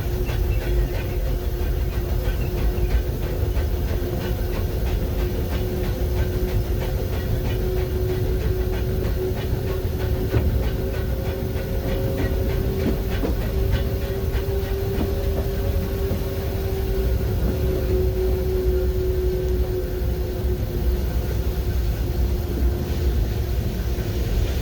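Disneyland Railroad sweeper train rolling along the track, a loud steady rumble with faint wheel clicks and a sustained whistle-like tone running through the middle, no talk.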